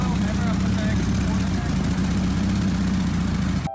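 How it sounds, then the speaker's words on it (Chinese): A salvaged Porsche Turbo engine runs roughly with a suspected misfire, giving a steady, loud, close droning hum that holds evenly throughout and then cuts off abruptly at the end. "这边听着发动机的声音不是特别的对"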